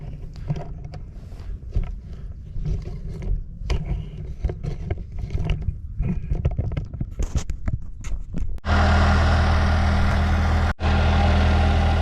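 A Ford 9N tractor engine starts with rough irregular chugging and knocking, then settles into a loud, steady close running drone with one brief dip near the end.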